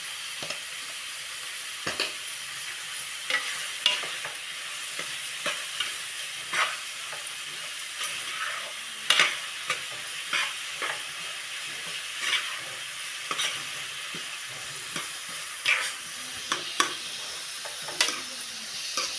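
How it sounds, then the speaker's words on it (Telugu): Onions sauté in a pan with a pinch of salt, sizzling steadily up close. Brief scrapes and clinks of a stirring spoon break through the frying hiss, and no one speaks. "కొంచెం సాల్ట్ అయితే వేసుకుంటానండి మనకైతే ఉల్లిపాయలు తొందరగా అయితే మగ్గిపోతాయి"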